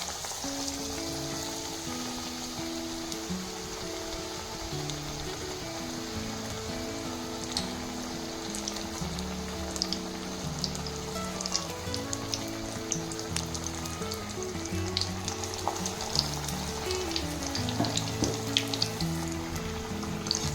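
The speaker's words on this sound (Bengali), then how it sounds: "নিয়ে এটা আস্তে করে এটা তেলের উপরে এক সাইড দিয়ে ছেড়ে দিলাম।" Egg chop coated in gram flour (besan) sizzling in hot oil for a Bengali snack, a steady close crackle and spatter running throughout with no talk.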